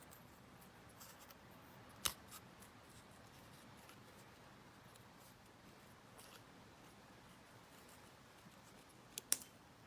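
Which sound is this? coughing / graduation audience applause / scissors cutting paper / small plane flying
scissors cutting paper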